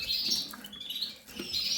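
Goldfinch-canary and siskin mule birds chirp in a birdroom with thin, high tweets repeating in short bursts, soft and fairly close, with no talking.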